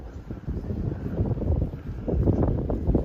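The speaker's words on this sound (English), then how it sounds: "It's a bit windy out here" Wind gusts buffet the microphone outdoors on the coast near Enoshima island, a steady low rumbling roar that swells and surges unevenly throughout, with no other clear sounds.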